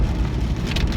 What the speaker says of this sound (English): as you can see, it's persistently raining